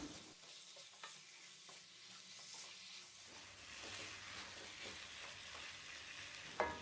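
Chicken pieces being mixed with masala in a frying pan for a Kerala-style chicken roast, a steady soft sizzle under repeated scraping and stirring strokes, close by with no talking and a sharp clink near the end.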